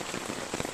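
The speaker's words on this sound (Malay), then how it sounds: "Nampaknya hari hujan." Steady rain falls at a forest waterfall picnic spot, a dense, even hiss of drops pattering on surfaces close by, with no voices.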